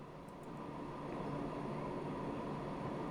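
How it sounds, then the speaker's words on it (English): A freight train departs a depot in the video game Transport Fever 2, giving a steady, continuous rolling rumble with a broad hiss that holds at an even, fairly loud level throughout, with no talking. "let's have a small ride along with this train as it's going to be departing from the depot"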